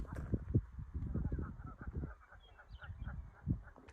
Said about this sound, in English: there's geese, Canadian geese everywhere here, so we keep hearing them